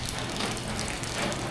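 Rain falls steadily at a house in Parañaque, a soft, continuous hiss of drops hitting surfaces, faint and even throughout.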